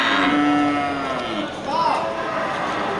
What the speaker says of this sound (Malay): seperti di depan kita ini sapi Aceh